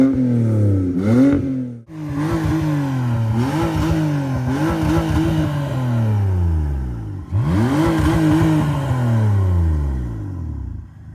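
A BMW E39 540i V8 revs repeatedly and loudly nearby. Each blip rises and then falls away, building into a long surging pull as the car drives off, with no talk over it.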